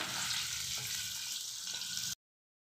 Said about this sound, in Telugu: ఆయిల్ కాగింది ఫస్ట్ అల్లం ముక్కలు వేసుకోవాలి అల్లం ముక్కలు వేయించుకోవాలి